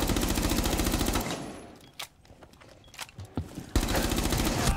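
Gunfire sprays through a wall in Rainbow Six Siege, with loud rapid automatic bursts at the start and end framing a quieter stretch of scattered single shots and impacts.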